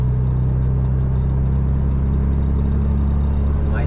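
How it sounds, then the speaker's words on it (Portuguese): Steady low rumble of small cars passing on the BR-101 highway where it runs through a Brazilian city, a continuous dense drone of traffic with no voices. "A BR-101 passa aqui por dentro da cidade. Por isso que o trânsito é assim também, porque passa muito carro pequeno"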